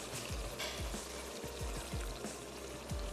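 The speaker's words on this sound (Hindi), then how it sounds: "चलिए अब मैं इसमें शामिल कर देती हूँ थोड़ी सी यखनी।" Yakhni stock poured into a pot of Hyderabadi malai qorma, a steady liquid pour with soft splashing and bubbling over a low background hum, heard alone without voices.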